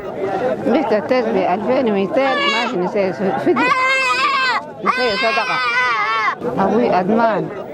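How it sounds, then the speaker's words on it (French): Goats bleat loudly and repeatedly at a busy weekly livestock market, long wavering cries close by over a background of crowd chatter. "Fatime Moussa, venue de Biéré, vient d'y acquérir une chèvre."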